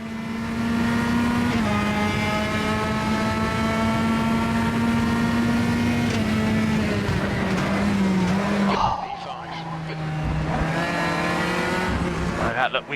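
Four-cylinder touring car engines in the Automobilista racing game, revved high toward 7,000 RPM, whining loudly in sustained tones that shift pitch with gear changes, with a sudden drop and renewed climb near the end.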